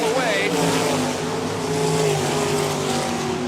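360 sprint cars race at Park Jefferson Speedway, engines roaring loud and continuous with rising and falling pitch as the pack circles, under a commentator's voice.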